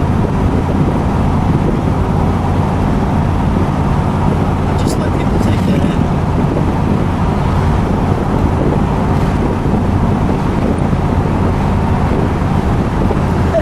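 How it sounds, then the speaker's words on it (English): A steady low rumble of road and engine noise fills the cabin of a 1970 AMC Javelin SST Mark Donohue while driving, with someone speaking briefly over it. "listen to the inside of this car, the absence of noise"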